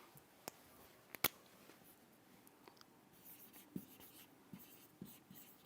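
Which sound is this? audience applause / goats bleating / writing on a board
writing on a board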